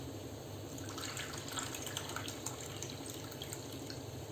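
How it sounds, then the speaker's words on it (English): A cup of water is poured onto a cup of sugar in a pan to make syrup. The liquid runs in a steady, moderately loud stream with light splashing throughout. "here I am taking 1 cup sugar and I am going to add 1 cup water to it"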